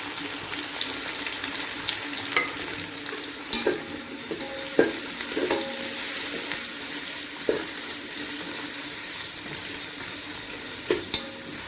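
Tomato and green chili frying in a pan, a steady hissing sizzle with occasional stirring scrapes and clinks spaced a second or two apart, close and moderate in level, without speech.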